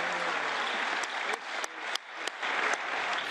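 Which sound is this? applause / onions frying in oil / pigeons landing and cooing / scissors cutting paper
applause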